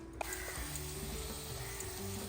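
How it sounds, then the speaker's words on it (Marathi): Grated fresh coconut fries gently in a pan over a low gas flame, giving a soft, continuous sizzle with faint hums and no voices. "ओला नारळाचा चव घालून झाला की आपण गॅस पूर्णपणे मंद ठेवायचा आणि याला परतवून घ्यायचं"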